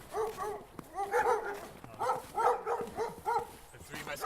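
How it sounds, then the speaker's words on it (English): Sled dogs bark and yip in repeated bursts, several calls spaced over a few seconds, moderately close with some overlap between animals. "So we have 7 sled dogs."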